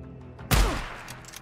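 A single heavy AK rifle shot fired in the zombie survival video game Days Gone, a loud sharp blast with a booming low tail that fades over about a second.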